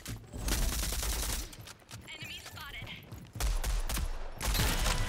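Rapid bursts of gunfire from the online shooter Rogue Company, loud repeated volleys with heavy low thumps, a quieter mechanical stretch between, then further close bursts of shots.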